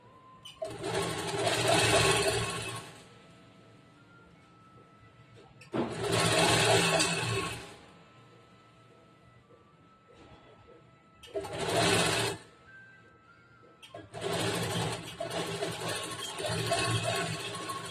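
A sewing machine stitching blouse fabric runs in four separate bursts of steady whirring, each a few seconds long, with quiet pauses between them.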